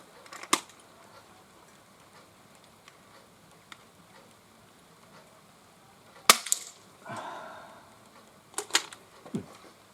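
Sharp, snappy shots from an Umarex UX SPA 60 spring pistol fired at a target outdoors in rain: one early crack, then a cluster of three near the end, close and crisp over faint background patter.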